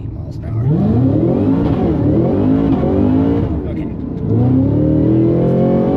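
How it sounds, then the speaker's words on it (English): A Cadillac CT5-V Blackwing, tuned with roughly 670 wheel horsepower and a 10-speed gearbox, launches hard from a near stop, its engine roaring loud and close as revs climb, dip at a shift, then surge again. "I want to hit it from a dead stop"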